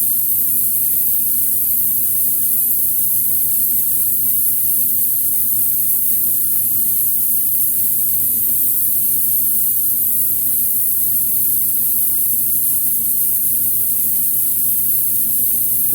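An airbrush mists paint onto a custom quarter-scale Thor figure, giving a long, steady, loud hiss of spray with no break and no speech over it.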